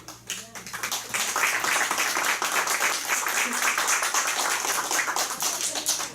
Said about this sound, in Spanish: agradecemos con un fuerte aplauso a nuestro profesor